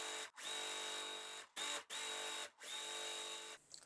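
A sewing machine stitches quilt blocks together in several steady whirring runs separated by brief pauses, close and fairly quiet, with no talking.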